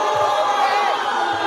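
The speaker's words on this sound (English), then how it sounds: "They're booing right now." Recorded crowd booing at a City of Chicago gathering: a loud, sustained mass of jeering voices, steady and dense throughout the short stretch.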